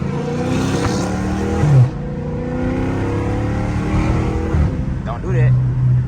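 A catless widebody Dodge Charger Scat Pack in midday traffic gives a loud, rumbling exhaust note with revving and a few pops, heard close alongside passing traffic and people talking.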